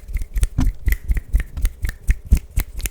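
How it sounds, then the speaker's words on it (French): Finger snaps for ASMR, close and crisp, repeating in a quick, fairly even rhythm of sharp dry clicks with no talking. "Les claquements de doigts."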